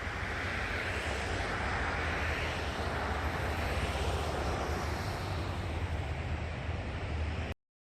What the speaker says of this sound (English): I hear the river running down there.